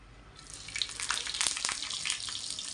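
Oil with a little garlic hits a hot pan and crackles in a bright, steady sizzle that swells within the first second and keeps hissing close by, with sharper spits scattered through it and no talking.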